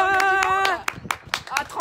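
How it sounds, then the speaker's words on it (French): A few people clap in sparse, uneven bursts after a sung or sustained vocal note fades, with individual claps standing out rather than a dense crowd sound. "Un tonnerre d'applaudissements à l'invité de celle qui m'a invité"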